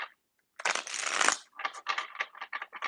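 Tarot cards being shuffled by hand at close range: a long riffling burst, then a run of quick, irregular flicks and slaps as the deck is worked, with no talking.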